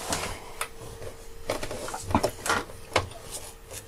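A sewing machine stitches the bottom seam of a fabric backpack in short, uneven bursts of mechanical clatter and ticking, close and moderately loud, with no voices.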